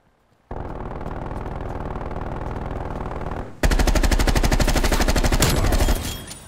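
Rapid machine gun fire from an enemy sentry turret in a Black Ops video game, a steady stream of close shots that grows louder and harsher halfway through before cutting off.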